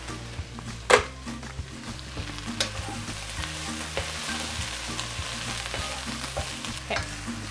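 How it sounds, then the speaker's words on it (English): Borscht vegetables sautéing in a pan: a continuous close sizzle broken by scraping stirs and a few sharp knocks of the utensil against the pan, with a low steady hum beneath. "Just kind of sauteing that a little bit"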